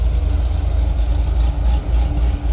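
A 2002 Corvette C5 Z06 with a BTR cam and Trick Flow heads idles with a loud, steady, deep rumble that holds evenly throughout.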